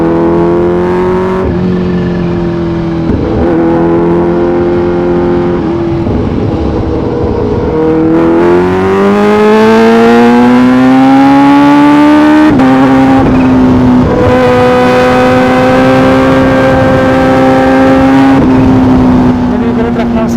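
Supercharged 2023 Kawasaki H2 Carbon motorcycle engine pulling hard through the gears, a loud, near, sustained roar whose pitch climbs steadily, drops at a shift, then rises again, with wind noise underneath.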